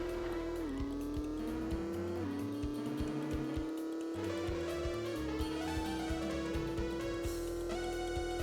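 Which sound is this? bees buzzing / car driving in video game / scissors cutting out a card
car driving in video game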